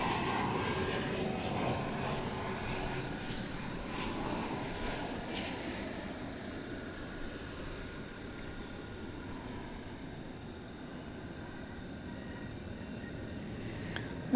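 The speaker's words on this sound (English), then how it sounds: "That looked to be an Embraer I'm going to say 170" An Embraer 170 jet arriving from Chicago O'Hare at DFW Airport at night makes a broad, steady engine roar that fades slowly over several seconds, distant and continuous, with no talk.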